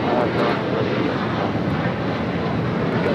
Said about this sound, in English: Heading on down for a south side takeoff